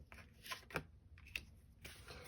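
Tarot cards being shuffled by hand produce a few quiet, soft riffling and slapping bursts close by, faint and brief with no speech.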